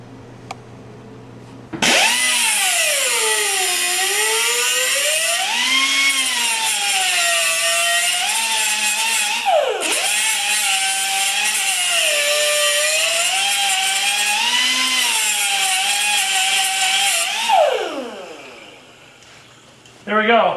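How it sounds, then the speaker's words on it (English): A small cutoff wheel grinds the corner off a gear fork for a three-speed transmission, a loud sustained whine with wavering pitch running about fifteen seconds, dipping once midway, then spinning down. "we're going to take this thing over there with a little cutoff wheel and we're just going to take and remove this little bit, this corner off here"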